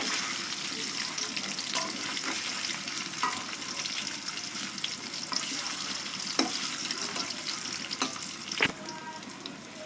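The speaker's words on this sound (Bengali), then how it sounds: "খুবই কম মশলা দিয়ে রান্না ডিমগুলো হালকা করে ভেজে নেব" Eggs fry lightly in hot oil with a soft, steady sizzle, close and quiet, with occasional clinks and scrapes of a utensil and a faint watery hiss in the background.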